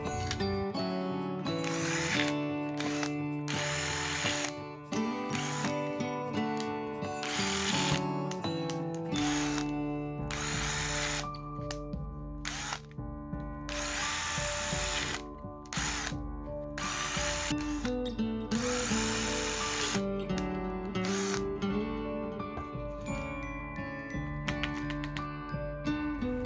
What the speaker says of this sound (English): Before I paint, I'm drilling holes on 2 of the wooden trees.